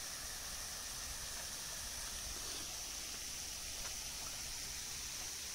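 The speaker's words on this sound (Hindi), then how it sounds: "पानी का फुहारा चल रहा है" A water fountain running in Mohanlal Sukhadia garden at Mount Abu, a steady soft hiss of spraying and splashing water, faint and continuous with no voices.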